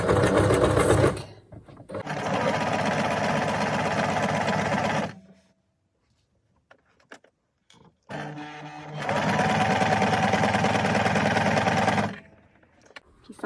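A sewing machine stitches fabric for a magnetic pin wand in two loud, steady runs of rapid mechanical whirring, separated by a near-silent pause of a few seconds.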